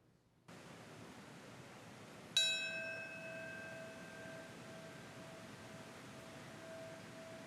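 A single bell strike rings out at the 9/11 Memorial ceremony in New York City, following quiet background hush, then a long, ringing decay that lingers to the end.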